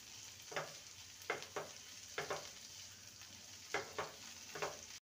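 Chopped capsicum and tomato fry in a pan under a soft continuous sizzle, punctuated by several distinct stirring scrapes in irregular clusters, close and fairly quiet, with no voices.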